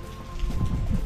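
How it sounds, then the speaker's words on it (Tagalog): Loud, steady rain pouring down with a dense rushing hiss and low rumbling, heard alone with no voices, at Tayabo Nature Park. "Umuulan kasi malakas na yung ulan."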